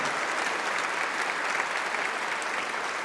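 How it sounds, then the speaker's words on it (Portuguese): Church congregation applauding during a Sunday Mass homily, a full, continuous roar of many clapping hands that holds steady throughout, no voices over it. "Pode aplaudir, pode aplaudir"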